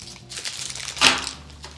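A small two-button key-ring gate and garage door opener transmitter is pulled from a thin plastic bag, giving close crinkling and rustling with one louder crackle midway.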